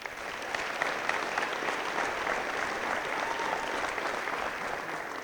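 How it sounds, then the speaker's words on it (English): An audience at a high school athletics ring of honor ceremony gives a dense, steady round of applause. The sound is moderately distant and continuous, with no voices heard over it. "That is worthy of a round of applause there."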